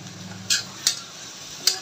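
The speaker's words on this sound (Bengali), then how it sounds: "এখন ফুলকপি আর সিমগুলো দিয়ে দিব।" Cauliflower and flat beans stirred into sizzling spice paste in a pan for a rohu fish curry with ridge gourd. Three short, crisp stirring scrapes stand out over a faint, steady sizzle.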